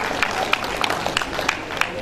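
Audience clapping for an arriving guest at a formal inaugural lecture ceremony at a polytechnic, a dense steady patter of many hands with sharper peaks throughout.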